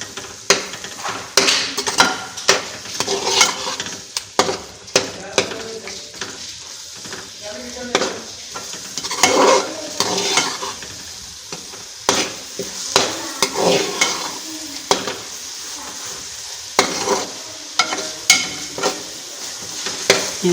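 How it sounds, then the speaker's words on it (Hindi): Spices and black pepper are stirred and mixed in a pan for Pakistani-style fish masala: repeated scraping and clinking of a utensil against the pan over a continuous sizzle, loud and close, with brief pauses between strokes. "अब इसको मिक्स कर लेंगे अच्छे से।"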